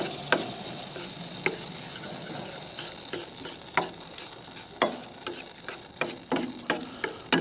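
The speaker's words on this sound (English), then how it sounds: "add a little more milk. And then back to stirring." Milk gravy is stirred in a pan at a cold-weather beach campsite, with a soft bubbling sizzle under irregular knocks and scrapes of the utensil against the pan, close up and without talking.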